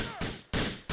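Enemy gunfire in Grand Theft Auto 4, three loud close gunshot bursts about a third of a second apart, each decaying quickly, with a faint ringing tone early on.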